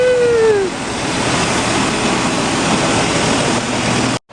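Airplane in flight to Dublin, a loud, steady cabin roar of engines with a falling whine at the start, continuous and close until it cuts off abruptly at the end.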